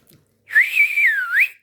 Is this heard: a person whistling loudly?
yes